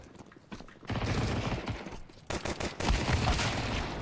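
Rapid gunfire from the Counter-Strike video game during a professional match, with dense overlapping bursts of automatic shots that stay loud and nearly continuous for about four seconds, with a brief dip in between.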